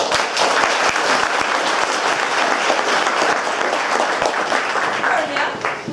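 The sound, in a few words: audience applause for fan favorites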